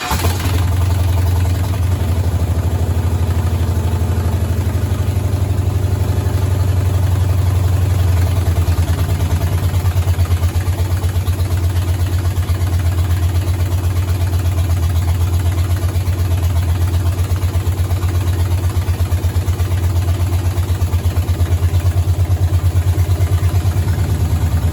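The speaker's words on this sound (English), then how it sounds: "We're going to try for a test idle" LS V8 engine swapped into a 1985 Camaro settling into a steady test idle, a loud, close, low rumbling drone that stays even throughout after a rougher first few seconds.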